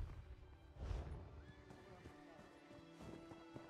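A horse whinnies in the video game Elder Scrolls Online, set in a horse-raising area of The Rift, a close, loud neigh with hoof clops under it, while a person speaks.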